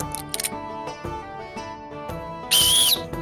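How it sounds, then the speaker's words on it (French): A whistle blown into a microphone gives one loud, shrill blast of about three-quarters of a second near the end, after a stretch of quieter tonal humming and clicks with no speech. "est-ce que ça a déjà été tenté de siffler dans un sifflet avec un micro?"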